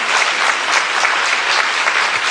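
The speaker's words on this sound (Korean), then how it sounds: "박수 한번 치시고" Steady, dense applause from a church congregation, loud and continuous for a couple of seconds with no talk over it.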